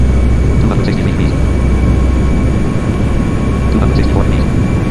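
Steady, loud aircraft engine drone from a flight simulator game, on a virtual flight from Düsseldorf (EDDL) to Faro (LPFR). The rumble runs unbroken through the whole stretch.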